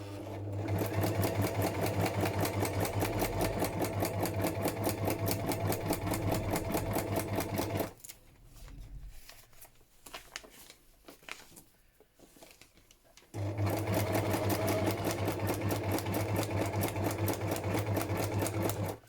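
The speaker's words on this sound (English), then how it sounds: "I'm going to stitch down again using the zigzag stitch" Sewing machine running a zigzag stitch over paper laid on a grungy junk journal page, a fast steady mechanical whir that stops for a few seconds mid-clip, then resumes at full speed, close and loud.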